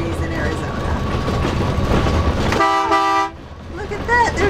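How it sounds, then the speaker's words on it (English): A train horn sounds on a passing train, heard from a vehicle driving past pistachio orchards in Arizona: a loud sustained toot lasting under a second over road rumble, followed by quieter traffic noise. "Look at that, there's a train."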